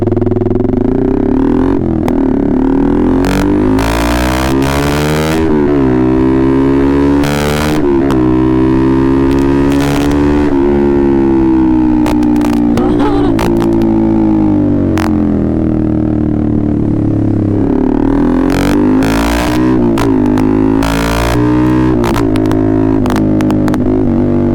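Raider 150 FI motorcycle with an open pipe and a remapped stock ECU, revved hard again and again, loud and close, its engine note climbing and dropping with sharp crackles between the pulls.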